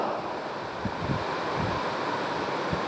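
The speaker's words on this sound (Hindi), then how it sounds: "पंखा चल रहा है, क्या चल रहा है यार?" An electric fan runs indoors during a physiology lecture, giving a steady low whooshing hum that stays constant with no speech over it.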